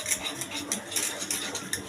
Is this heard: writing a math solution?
no